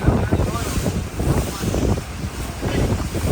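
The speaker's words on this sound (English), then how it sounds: "feel the waves" Steady rushing surf and wind roar fill the clip, continuous and fairly loud, with a churning low rumble like waves against a moving boat, off Aruba.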